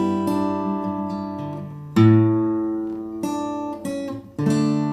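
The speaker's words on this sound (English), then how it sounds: "you can just play the bass, the A bass, so it sounds like this" Guitar plucking an A bass note with a few chord strikes above it, each attack loud and close and then ringing and decaying, with no talking.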